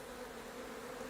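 Honey bees buzz around hive comb built on a single bar, a soft, continuous droning hum from many bees with no voices.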